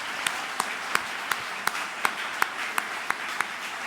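An audience at a church ceremony installing a pastor claps in a steady, slightly uneven rhythm of distinct hand claps, fairly close and moderately loud, with no talking over it.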